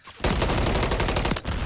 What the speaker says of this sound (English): Goonie exchanging some gunfire.